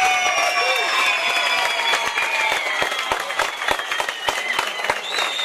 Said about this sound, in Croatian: još jedan najveći aplauz za naše mladice